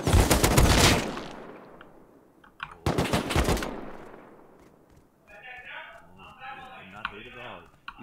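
Two loud bursts of gunfire from the video game Rust, each a dense crack with a decaying tail, separated by a short gap, followed by a voice talking over quieter game sounds.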